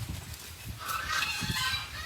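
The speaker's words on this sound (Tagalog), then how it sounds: "Ang ingay ng pabo ng kapitbahay" A turkey's rapid, warbling gobble rises over faint outdoor background noise on a mango farm, moderately distant and lasting a couple of seconds.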